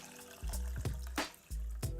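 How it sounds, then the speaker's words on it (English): 500 ml of cold tap water poured from a cup over rice in a pot, in a couple of splashing pours with short pauses, close and fairly quiet, no talking. "I'm going to add 500 ml of just cold water on top of that"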